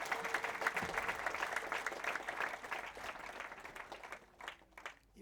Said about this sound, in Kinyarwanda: Dukomere Imana amashyi tuyishimire.